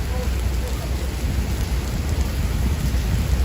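Heavy rain from Hurricane Elsa falls on a Manhattan street on a Friday night, a loud, dense, continuous roar with a low rumble that could be thunder, and no talking.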